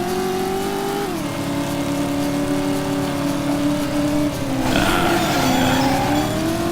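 Car engine in the PS1 driving game Driver, droning and revving steadily with pitch shifts as the car speeds up and slows, then a gritty burst of tire skidding near the end. The engine stays loud and close throughout, with no talking.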